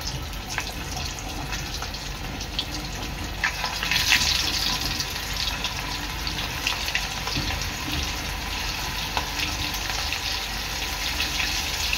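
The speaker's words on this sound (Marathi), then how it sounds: "आता ही कोलंबी मी डीप फ्राय करून घेते" Prawns deep-fry in well-heated oil, producing a dense, continuous bubbling hiss that stays loud and even throughout, with a brief surge early on.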